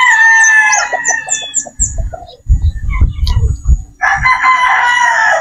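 A pure Boston Roundhead brood stag with a straight comb crows and clucks close by, several short calls followed by a long crow, with low rustling and handling noise in the middle.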